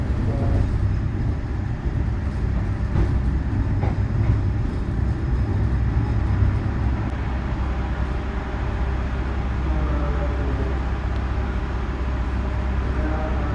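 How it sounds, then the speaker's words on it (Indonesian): An extra economy passenger train runs straight through Jatibarang station without stopping, a loud, steady rumble of wheels and carriages that lasts throughout with faint rhythmic clatter and no talk. "Jatibarang melintas langsung teman-teman, tidak berhenti."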